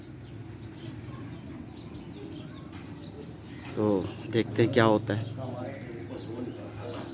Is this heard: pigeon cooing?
yes